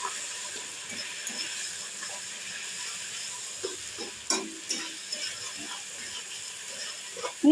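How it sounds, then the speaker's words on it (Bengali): Mustard paste, green chilli paste, salt and turmeric fry in a pan for a hilsa fish curry, giving a steady close hiss and sizzle. Light scraping stir strokes recur throughout, with a few sharper knocks of the utensil against the pan. "আমি হালকা করে মশলা ভেজে নিচ্ছি।"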